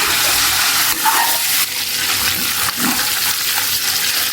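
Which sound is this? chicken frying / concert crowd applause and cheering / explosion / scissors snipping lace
chicken frying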